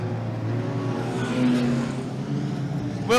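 Junior sedan race cars lap a clay short track at a championship meeting in Alexandra, their engines droning steadily at a near distance, with a sharper whine from a car rushing past at the end.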